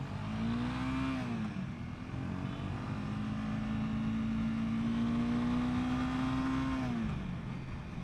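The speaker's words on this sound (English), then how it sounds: "That launch in first gear on this bike is a little underwhelming." A 2021 Honda CBR 300R motorcycle launching in first gear, its engine rising in pitch, holding a steady drone and then dropping back, close and continuous, with wind noise and no voices.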